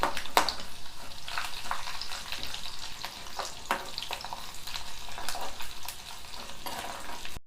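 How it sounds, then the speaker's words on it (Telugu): Crushed garlic sizzles in hot tempering oil with dried red chillies and seasoning seeds, a constant close crackle broken by a few sharp spatter pops; no voices. "ఒక్క ఎల్లిపాయ దంచుకొని వేసుకుందాం."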